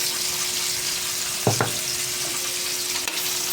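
Onions sizzle steadily in a hot pan while sotanghon noodles with chicken are cooked, a continuous frying hiss broken by a couple of brief clinks from stirring around the midpoint.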